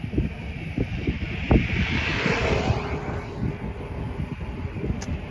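Strong cold wind blows steadily across the microphone during an early-morning walk, a continuous rough rumble with gusty buffeting.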